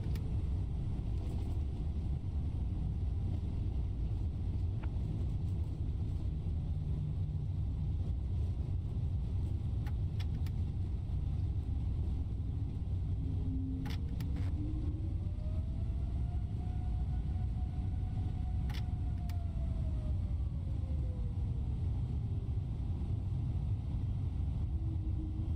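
A JetBlue Airbus A321 long-range jet lands hard and rolls out. A loud, steady roar of rumble and rattle runs throughout, and an engine tone swells and then fades midway, with no talking.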